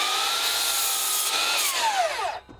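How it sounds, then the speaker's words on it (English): A miter saw cuts a 2x4 for a wooden patio table, its motor whining high and steady before the pitch sags as the blade bites and then stops abruptly. "I'll cut those on a miter saw"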